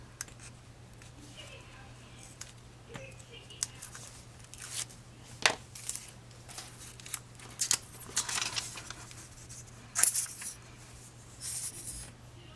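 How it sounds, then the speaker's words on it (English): Tape being peeled by hand while assembling a handmade paper mini album, a series of short sticky crackles and rips close by, scattered and uneven with quiet gaps between them. "Peel my tape."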